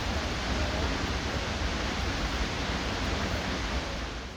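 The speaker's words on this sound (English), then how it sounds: "that is still one hell of a waterfall" An Icelandic waterfall pours as a dense, unbroken roar of rushing water, loud and even throughout, with no voices over it.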